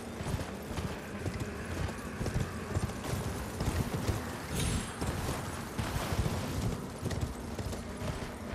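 Horse hooves galloping in Elden Ring, a steady rapid clip-clop rhythm with loud, dense game ambience and rumbling effects layered over it, running continuously without pause.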